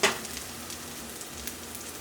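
Lentil patties fry in an oil-coated pan, giving a close, even sizzle that runs steadily after a brief louder pop at the start, with no talk.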